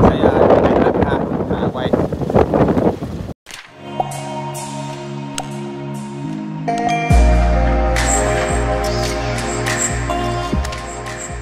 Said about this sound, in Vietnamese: Hôm nay là này gió quá